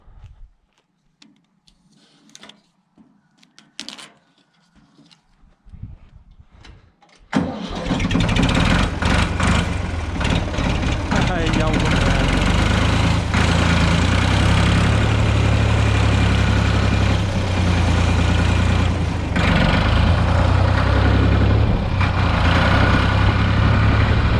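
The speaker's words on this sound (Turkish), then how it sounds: "arkadaşlar dümdüz gidiyor şimdi traktör" A heavy Ford 3000 tractor engine cranks and starts after some quiet handling noises, then runs steadily while driving with a loud, deep, continuous rumble for the rest of the clip.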